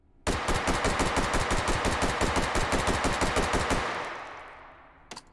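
An ST-211 9mm pistol fires in the VR game Hot Dogs, Horseshoes & Hand Grenades: a sharp, rapid burst of about twenty loud, evenly spaced shots that stops abruptly and rings off, followed by a couple of small clicks.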